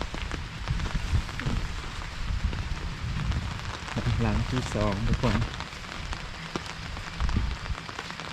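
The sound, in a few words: rain falling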